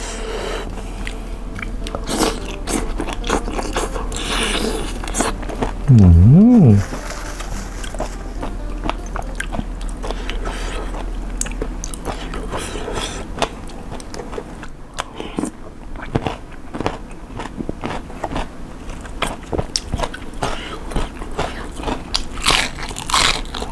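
Crunchy biting and chewing of pounded fresh shrimp with stink beans, fermented fish sauce and rice noodles, steady close mouth sounds throughout with a brief louder hum partway and faint background noise.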